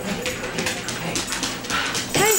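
A husky dog whimpers and yips in short, thin cries, with a person talking over it.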